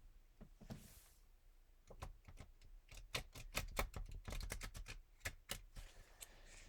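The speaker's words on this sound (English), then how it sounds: "I will cut the deck and shuffle them one last time" Quick, crisp riffling and snapping of playing cards in short bursts, fairly quiet and close, with a soft rustle between the flurries.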